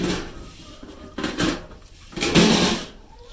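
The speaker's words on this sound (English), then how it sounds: "Put a scoop in there. And a scoop in there." Scoops of feed for pet rabbits and chickens going into a dish on a homestead, two distinct rattling pours about a second apart, close and clear with light clatter in between.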